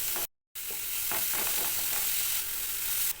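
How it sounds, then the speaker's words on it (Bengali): Grated carrot frying in hot refined oil in a pan, stirred: a steady close sizzle with soft scraping strokes at irregular intervals, after a brief silent break at the start. "তেল গরম হয়ে গেছে, এবারে দিয়ে দেব গ্রেট করে রাখা গাজর।"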